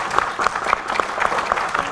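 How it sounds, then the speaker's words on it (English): An indoor audience claps steadily in a short burst of applause welcoming a congressman before his talk, a dense round of many hands at moderate loudness. "a big round of applause."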